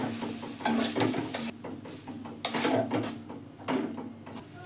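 Potatoes and sour yogurt being stir-fried in a kadai, a spatula scraping and stirring in uneven bursts over a steady low sizzle, close and fairly loud with no voices.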